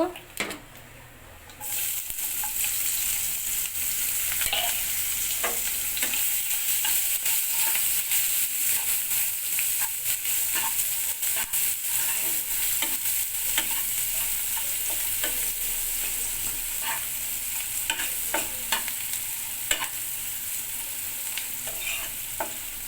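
Chopped onions fry in a pan, a steady loud sizzle that starts abruptly and continues with scattered scrapes and taps of stirring, occasional faint voice underneath.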